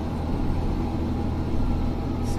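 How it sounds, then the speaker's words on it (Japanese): A very old Nissan truck cruising on a Japanese expressway near Osaka, its low engine drone and road rumble steady and continuous throughout, with no talk. "今日乗ってるこの車はトレーラーではなくトラックです。 で、めちゃくちゃ古いんですよ。"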